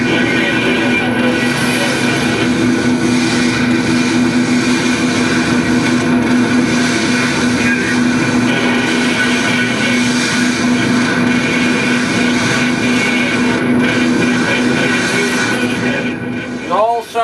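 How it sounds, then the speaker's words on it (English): Large vessel engines in New York Harbor give a steady, loud, continuous low roar with a droning hum throughout, passing within about 200 feet, fading slightly at the very end. "What you're going to hear in the background are the roar of the engines."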